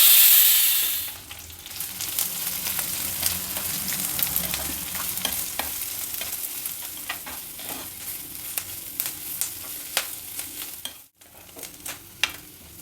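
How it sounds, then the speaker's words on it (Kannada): Chopped onions fry and sizzle in a pan. There is a steady crackling hiss with frequent sharp clicks of stirring, and it is heard close up with no talk. "ಈರುಳ್ಳಿ ಚೆನ್ನಾಗಿ ಫ್ರೈ ಆಗಿದೆ"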